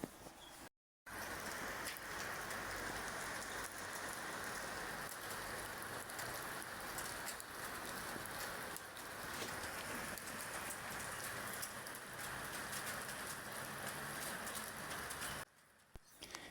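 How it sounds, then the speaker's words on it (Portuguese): Steady winter rain pattering on surfaces outdoors, a dense, even hiss lasting throughout with faint birdsong in the background and no talking. "desse vídeo da chuva de inverno que Deus está fazendo hoje"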